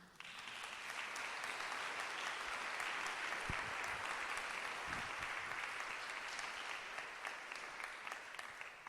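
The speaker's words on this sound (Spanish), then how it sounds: "Eso requiere un aplauso para el Rey." Congregation applauding for the King during a Spanish-language church service, steady sustained clapping from a large crowd throughout, fairly even in loudness without speech.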